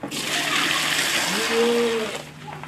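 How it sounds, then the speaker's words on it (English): Milk pours steadily into a bucket with a continuous splashing gurgle, close by, tapering off at the end. "So we just pour it inside of this bucket."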